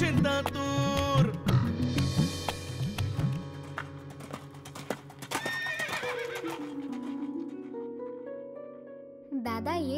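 A horse whinnies and hooves clatter inside a Marathi children's film song, with the neighs and hoofbeats set over continuous melodic music and singing.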